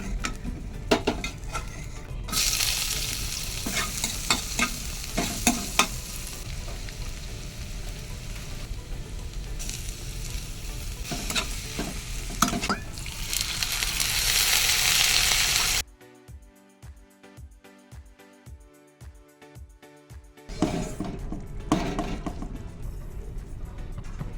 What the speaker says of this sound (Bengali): মায়ের জন্য ডিম ভাজা হচ্ছে